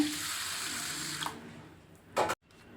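Moong dal and rice are rinsed in water, a close watery splash and swish that fades, then a short louder burst of running water before stopping.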